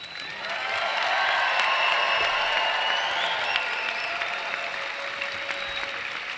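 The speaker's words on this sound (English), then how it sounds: "So that applause, I think, is a little subdued for the occasion." A medical school commencement audience claps in a sustained, fairly loud round of applause that swells after the first second and stays full, with some cheering tones drifting over it, tapering slightly toward the end.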